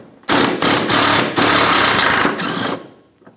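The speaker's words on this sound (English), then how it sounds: "10mm socket, and we're going to remove that bracket." A power tool drives a 10mm socket to pull the bolts of a support bracket during an oil pan replacement on a 2015-2024 Jeep Renegade, coming in several loud, close, buzzing bursts separated by short pauses.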